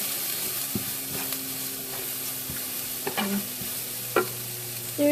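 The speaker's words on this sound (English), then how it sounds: "And then I'm just going to kind of stir it all around." Cauliflower fried rice stirred around a pan at close range, a steady sizzle of frying under scattered scrapes and clacks of the utensil, with no talking.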